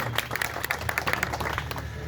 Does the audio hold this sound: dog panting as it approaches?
no